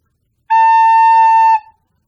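One sustained A on a recorder, bright and steady, held for about a second and alone against silence.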